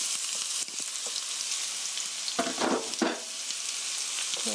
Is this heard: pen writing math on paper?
no